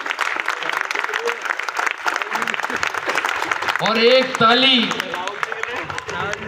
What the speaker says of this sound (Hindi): तो मोदी जी के लिए भी जोरदार ताली